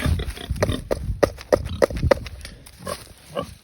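Kunekune sow on a breeding farm, being given a snack, grunting and oinking in a quick string of short snorts, loud and close, with rustling and movement around her.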